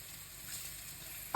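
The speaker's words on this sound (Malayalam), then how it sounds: "എന്നിട്ട് ഇതൊന്ന് വഴറ്റിയെടുക്കുക" Onions sautéing in a pan with turmeric, garam masala and pepper, a soft steady sizzle for a moment ending in a sharp brief clatter, no voices.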